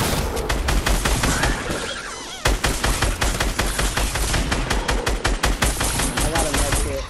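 Dense rapid gunfire in a video game as zombies are shot, loud repeated bursts with a brief lull partway through.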